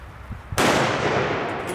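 A single sharp .22LR competition rifle shot cracks out close and loud, then decays briefly into the range ambience, with no talk over it.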